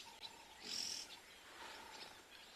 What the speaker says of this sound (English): I think these are barn swallows flying here.